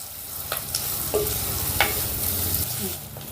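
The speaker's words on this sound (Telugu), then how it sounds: "ఈ ఉల్లిపాయల్ని ఒక రెండు నిమిషాలు ఫ్రై చేసుకుందాం" Onions fry in hot oil with a steady close sizzle, while a spoon stirs them with a few light scraping strokes against the pan.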